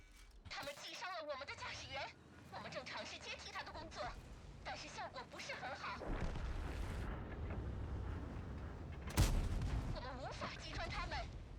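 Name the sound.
HE shells firing and exploding in a tank video game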